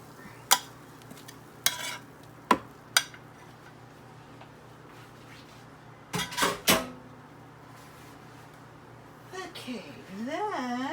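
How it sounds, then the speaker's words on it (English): Beans and cheese placed into the bottom of a big bowl for a taco salad, a few sharp clinks and scrapes of a utensil on the dish, with someone talking over it. "in the bottom of the bowl, put the beans and the cheese"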